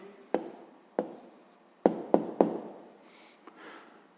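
A pen writes an answer on paper, giving a handful of crisp taps and short scratchy strokes, close and fairly quiet, with gaps between them.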